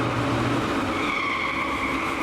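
A 1967 Chevrolet Camaro SS396 convertible with the 375-horsepower L78 V8 doing a tire-smoking burnout, heard as a loud, continuous roar of engine and spinning tires with a rising squeal and no talk.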